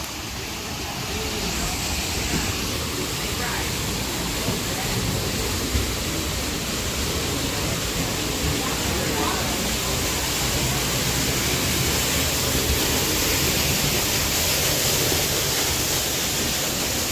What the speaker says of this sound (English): Cool rock formation and waterfall.